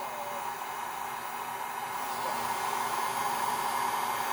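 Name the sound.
heat gun shrinking heat shrink tubing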